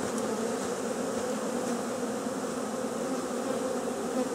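Honeybees from a newly installed package swarming around a hive, a dense, steady buzzing hum close by that continues without pause and with no talking.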